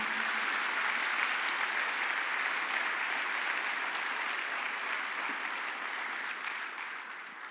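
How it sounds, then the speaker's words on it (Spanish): A church congregation claps together in sustained, dense applause that carries on steadily and tapers slightly toward the end, with no talk over it. "Dale un aplauso al Señor."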